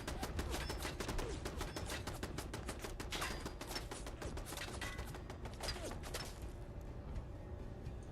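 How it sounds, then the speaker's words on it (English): Gunfire aimed at the player in Fallout London, with rapid, crackling volleys of shots fired in quick succession over a steady background. The shooting stays fairly faint and thins out toward the end. "Oh, who's shooting at me?"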